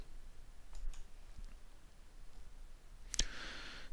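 A computer mouse button is clicked while finishing a storage-setup step in Windows Disk Management, giving one sharp, close click near the end of an otherwise quiet stretch with a few faint ticks earlier.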